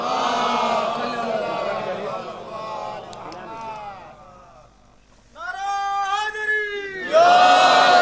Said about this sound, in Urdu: ایک صلوات پڑھیں بآواز بلند